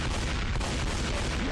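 Explosive-ammunition gunfire in the zombie shooter Left 4 Dead 2 roars as a dense, continuous barrage close by, with a few sharper reports standing out from the sustained din.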